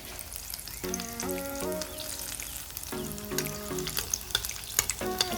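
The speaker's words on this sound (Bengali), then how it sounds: "উপরে উপরে তেল দিয়ে দিলে কি তাড়াতাড়ি ভাজা হয়ে যায়" Chicken pakora fries in a pan of hot oil, giving off a continuous close crackle and sizzle with scattered pops, while a soft melodic tune plays faintly in the background.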